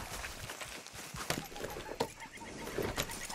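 A horse whinnies in Red Dead Redemption 2, mixed in with clip-clop hoofbeats and busy game ambience, moderately near and not very loud.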